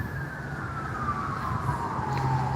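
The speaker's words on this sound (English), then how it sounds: "A lot of sirens there off in the background." Distant emergency vehicle sirens wail faintly on a highway beyond a Toronto waterfront walk, one long descending siren tone sliding down over steady ambient city noise, no talking.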